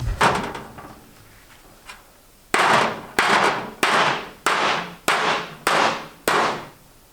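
A hammer strikes metal resting on a wooden stump to form dents: a few softer taps, then seven sharp, loud metallic blows at a steady, roughly even pace, each ringing briefly.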